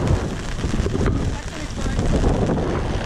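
Heavy rain pelts a boat caught in a windy storm off Miami, a steady broadband hiss with gusts of wind buffeting the microphone and a faint voice underneath.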